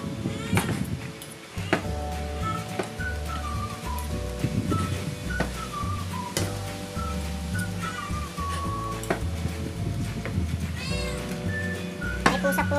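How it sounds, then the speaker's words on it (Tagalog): A cat meows repeatedly over a constant bed of background music, the cries rising and falling in pitch. "Pusa po."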